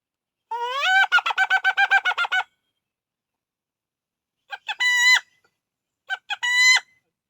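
A wild red junglefowl rooster crows three times in the Philippine countryside: one long, loud crow, then two shorter ones after a pause, clear against silence with no talking.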